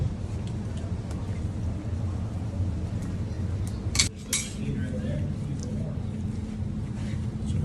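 Lavender and blue tinted blueberry cheesecake batter being mixed in a bowl, giving a soft continuous churning and scraping with one sharp utensil clink against the bowl partway through.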